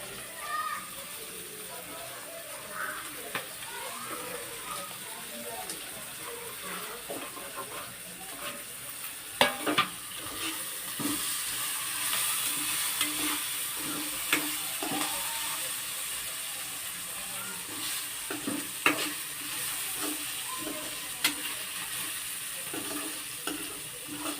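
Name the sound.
peanuts and potato frying in a pan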